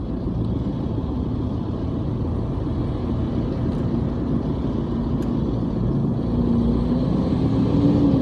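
Dense, heavy traffic rumbles steadily on the C5 flyover in Pasig City, a continuous low drone of engines with a faint passing whine, no voices over it.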